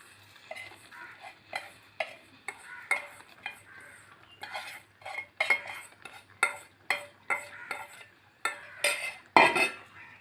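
A metal spoon scrapes and clinks in a pot as roasted coconut is stirred into a curry, a run of quick rhythmic strokes with a faint sizzle underneath, close and fairly soft.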